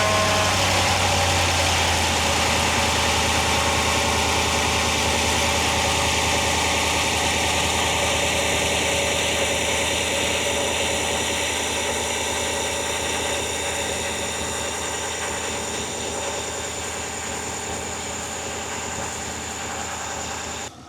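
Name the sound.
2018 Chevy 6.2L engine idling with new water pump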